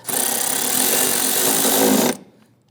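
Power tool, likely an impact driver or drill, tightening a bolt while replacing ignition coils on a 2011-2021 Jeep Grand Cherokee 3.6L V6, one loud, close, steady whirring burst of about two seconds that cuts off abruptly.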